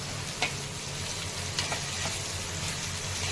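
Green chili, garlic and ginger fry in hot oil on a tawa for besan, giving a steady soft sizzle with a few light clicks of stirring, close and even, with no talking.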